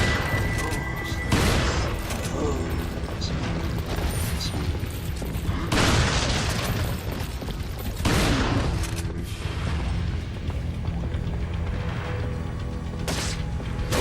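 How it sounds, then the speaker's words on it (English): Shotgun blasts in Resident Evil 4, several loud booming shots spaced a few seconds apart over continuous game noise and rumble, each a sharp broadband crack with a trailing thud. "I'm just using the shotgun now to end this all really quick"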